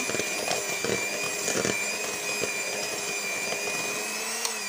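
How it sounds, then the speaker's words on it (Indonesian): Electric hand mixer whirring steadily while beating sweet batter for small steamed cup cakes, a loud continuous motor whine with brief clatter as the beaters knock the bowl, no talking. "Oke, kita kocok ya."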